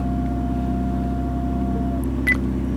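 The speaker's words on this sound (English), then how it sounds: "I'm going to activate the nose lifter, which is one little button here" Hydraulic nose lifter on a custom Ferrari 488 Spider raising the front of the car in a garage: a steady low electric pump drone with a thin whine, holding evenly throughout, ending in a brief higher chirp.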